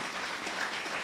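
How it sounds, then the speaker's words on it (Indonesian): Brief, faint burst of audience applause at an Islamic religious lecture, a steady wash of clapping with no voices over it. "Tepuk tangan untuk beliau."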